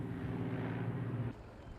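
Firefighting helicopters fly over a forest fire in Burdur, Turkey, giving a steady rotor drone that cuts off abruptly near the end, faint and distant.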